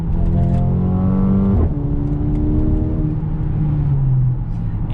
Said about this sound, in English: Yep, seriously, this exhaust sounds so good.